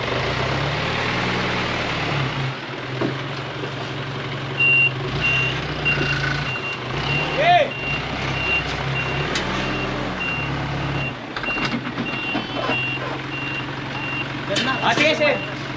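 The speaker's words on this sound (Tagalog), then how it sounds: "Ito na yung pangatlong dump truck." Dump truck reversing during sand backfilling for a kitchen extension, with a steady repeating reverse beep over a low diesel engine rumble that rises and falls, with some background activity.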